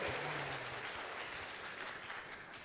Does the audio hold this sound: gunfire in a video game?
no